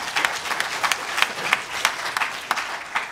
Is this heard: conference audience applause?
yes